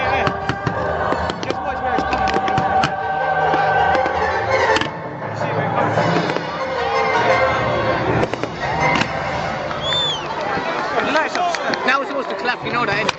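Bonfire Night fireworks launching high into the sky, with repeated crackling bursts and rising whistles over continuous outdoor noise, while people talk nearby throughout.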